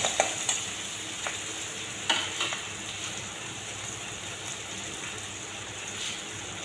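Onions browning in a pan for a Bengali lai shak dish sizzle in a continuous close hiss, with a few clinks and scrapes of stirring near the start and no talk.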